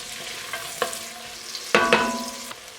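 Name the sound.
onions frying in melted butter, being stirred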